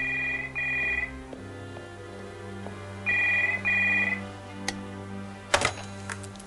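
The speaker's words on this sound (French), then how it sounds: "j'ai reçu un coup de téléphone de l'hôpital" An old-style telephone rings in short electronic trills, two bursts separated by a pause, over a low steady hum, followed by a sharp clack of the handset being picked up.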